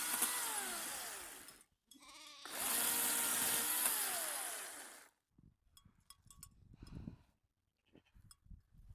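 Loud sheep bleats in the Norwegian woods, two long calls with a short break between, followed by quieter scattered rustling and shuffling sounds.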